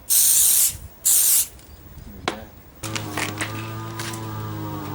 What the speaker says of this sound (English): we're just going to spray that now, keep it in place